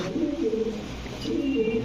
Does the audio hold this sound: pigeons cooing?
yes